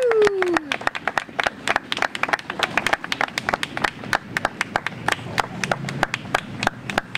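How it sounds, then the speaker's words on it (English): Outdoor audience applause at a park dedication ceremony, a crowd of scattered hands clapping with distinct individual claps, a brief whoop at the start, continuing steadily at moderate loudness. "we need a big round of applause."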